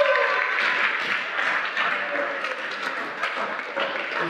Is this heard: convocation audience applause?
yes